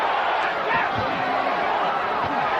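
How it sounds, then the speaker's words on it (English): Boxing crowd cheering for Holyfield during a heated exchange with Michael Moore, a dense, continuous roar of voices filling the arena, with a commentator talking over it. "The crowd trying to urge Holyfield."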